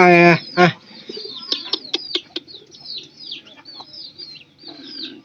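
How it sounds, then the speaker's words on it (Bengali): Chickens call out with a loud squawk, followed by a scattered stream of high, thin peeps and chirps from nearly grown chicks close by. "এইগুলা মুরগির বাচ্চা কিন্তু প্রায় ভালোই বড় হয়ে গেছে গা"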